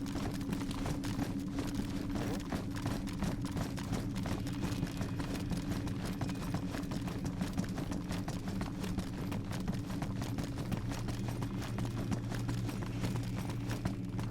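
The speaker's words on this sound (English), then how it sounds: "We can hear the footsteps like all the way down" Rapid footsteps in the DayZ survival video game, a steady stream of quick thudding steps running on and on at moderate volume, with no voices.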